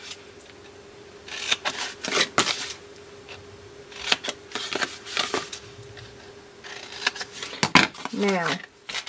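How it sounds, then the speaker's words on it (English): Scissors snip through paper card stock up to a score line in a series of short crisp cuts and rustles, close by, with a person talking in between. "we're going to cut up to the score line"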